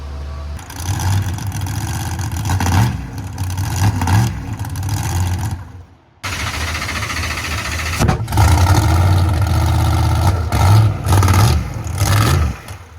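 A monster truck engine rumbles and revs unevenly nearby, running poorly, cutting out briefly before roaring back with repeated throttle surges, during preparations for Monster Jam in Los Angeles, 2025.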